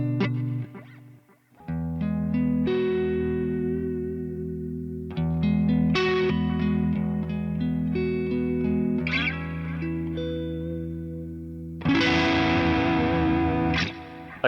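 Distorted electric guitar played through a Tone City pedal board, sustained gritty chords with shifting notes and harder-picked sections that bite with more gain, loud and alone without talk.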